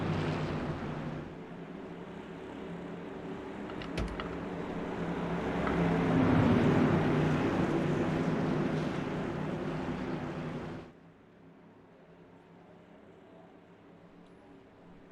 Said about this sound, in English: Green flag action back underway here.